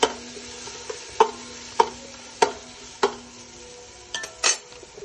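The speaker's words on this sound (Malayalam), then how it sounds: "ഇഞ്ചി ഇട്ട് കൊടുത്ത് ഒന്ന് നന്നായി ഇളക്കി കൊടുക്കുക." Ginger and tomatoes being stirred in a pan, several sharp metallic clinks and scrapes of a spoon against the pan at roughly half-second intervals over a faint sizzle, with no voices.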